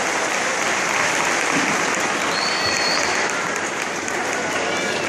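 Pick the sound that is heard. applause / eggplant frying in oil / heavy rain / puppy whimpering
applause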